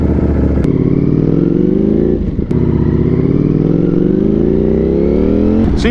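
A motorcycle engine drones loudly and up close during a fast ride, with the pitch climbing through gears and dropping at shifts, and wind rush throughout.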